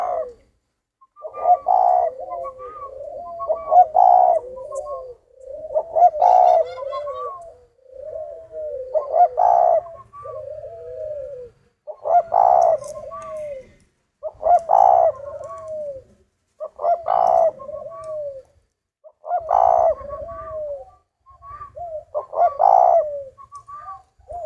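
A captive spotted dove coos close and clear, repeating a phrase of soft hoots about nine times at a steady pace with short quiet gaps between them, and no one speaks.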